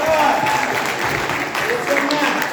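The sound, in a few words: audience applause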